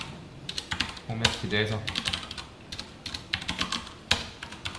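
Code is typed on a computer keyboard in rapid, irregular bursts of close, crisp key clicks, while someone speaks briefly in Korean over the typing.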